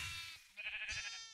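Sheep bleating in the Minecraft game on a Mineplex server, two short nasal bleats in quick succession, fairly quiet and heard on their own.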